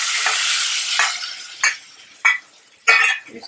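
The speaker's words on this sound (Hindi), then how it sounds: "इसको चलाते रहना" Curd stirred into browned onions in a hot pan: a loud hiss as it goes in fades away, followed by three or four distinct scraping stirs spaced about half a second apart.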